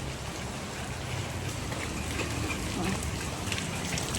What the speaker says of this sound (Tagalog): Kanina pa naman maulan, pero mas maulan na ngayon.